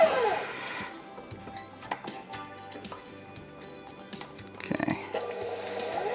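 A stand mixer kneads dough for Dutch currant buns, making a continuous motor whir along with clinks and knocks of the dough hook against the bowl. The sound is close and fairly loud, with no talk.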